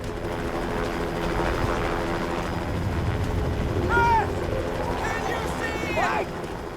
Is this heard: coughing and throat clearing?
no